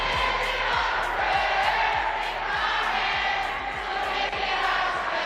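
Crowd at a Banana Ball baseball game in a Salt Lake City ballpark singing along to a song: a dense, loud mass of voices over a thumping rhythmic beat, continuous throughout.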